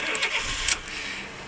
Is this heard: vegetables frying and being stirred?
no